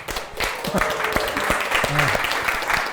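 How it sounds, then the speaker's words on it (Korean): Audience applause opening a community support activists' forum in Gyeonggi Province, dense clapping running steadily throughout, with a voice speaking briefly over it. "우리 큰 박수로 시작하도록 하겠습니다"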